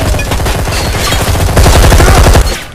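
Rapid automatic gunfire in the shooter game Deep Black, a loud, dense burst of close shots rattling continuously for a few seconds with no talk.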